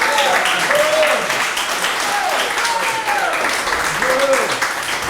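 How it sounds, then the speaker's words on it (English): A rally audience at a solidarity movement convention applauds loudly and continuously, with cheering voices rising over the clapping. "Let's give another round of applause to Chairman Omali Yeshitela."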